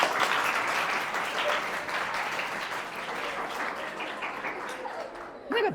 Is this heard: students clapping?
yes